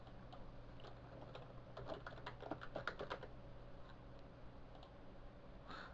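Fingers tap a computer keyboard in a quick burst of soft clicks, faint and close, against a low steady hum with no talking.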